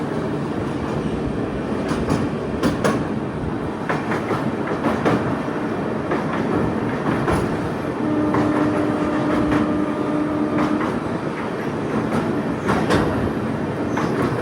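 An Amrit Bharat Express runs on rails, heard from on board as a loud, continuous rumble with rhythmic clickety-clack of wheels over joints and occasional brief squeals.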